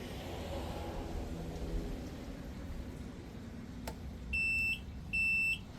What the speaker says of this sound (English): Good sign, we got the reverse beep.